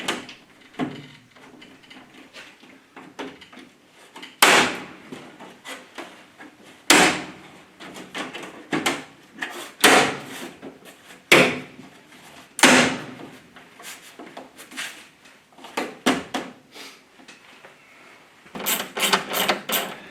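A series of sharp plastic snaps and clicks as plastic trim clips are snapped into an Austin Mini door card, spaced irregularly, with a quick cluster of clicks near the end; close up, no talking.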